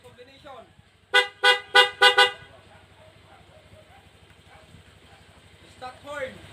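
Honda Click version 3 scooter fitted with a high combination horn gives five rapid, bright honks in a tight burst, with faint voices and background noise before and after.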